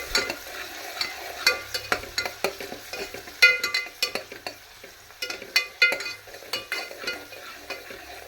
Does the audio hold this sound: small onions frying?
yes